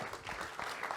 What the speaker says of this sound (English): A round of applause as they join us on the stage.